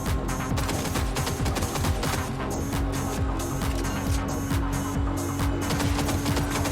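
Sustained Cyberpunk 2077 gunfire rattles on throughout, a dense, fairly loud fusillade of rapid shots layered over a steady droning hum and other game noise.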